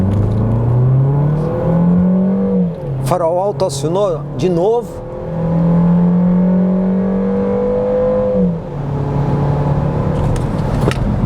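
An SUV launches from a standstill and accelerates hard with traction control off, a steady engine drone rising under someone talking throughout.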